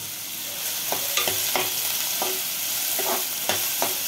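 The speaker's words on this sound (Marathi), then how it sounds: "कांदा छान गुलाबी होईपर्यंत परतवायचा आहे" Onion fries in hot oil for a mutton masala, a loud, steady crackling sizzle with regular stirring scrapes and clinks of a spatula.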